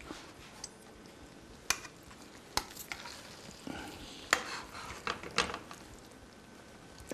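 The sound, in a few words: stirring a dish in a pan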